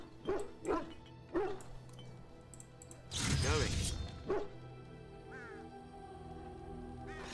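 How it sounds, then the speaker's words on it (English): In Dragon Age: Origins, several sharp dog barks, a few in quick succession, then a longer loud howling bark, with other game sounds and faint voices around them. "I am really getting annoyed with Jesus barking."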